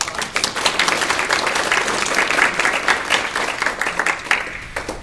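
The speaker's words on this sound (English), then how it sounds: "So please give Nick a round of applause." Steady applause from an audience at a historical society evening talk, a dense patter of many hands clapping at an even level throughout, with no voices standing out.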